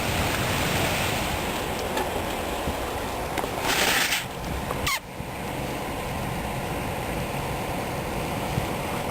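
Heavy rain pours during a severe thunderstorm while water runs down both sides of a street, making a loud, unbroken rushing hiss that barely changes from start to end.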